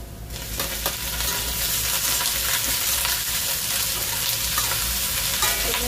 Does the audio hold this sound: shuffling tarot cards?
no